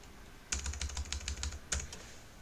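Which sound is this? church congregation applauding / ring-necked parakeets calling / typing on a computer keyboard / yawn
typing on a computer keyboard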